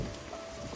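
Steady wind gusting across an open, well-kept gravel walking track in New Zealand, a continuous broadband rush buffeting the microphone for the whole moment with no voices.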